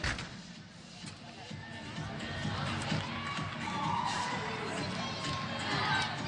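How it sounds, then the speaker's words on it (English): An arena crowd at a 2014 NCAA women's gymnastics championship meet cheers for a gymnast, its roar of applause and shouts swelling steadily and staying loud toward the end, with voices mixed into the din. "Some crowd love for the gymnast."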